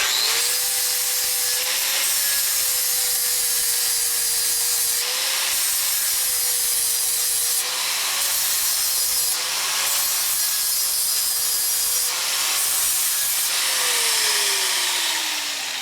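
A hand body file scraped repeatedly across metal during a 1942 Harley WLA springer fork repair, steady close rasping strokes with brief pauses between each pass.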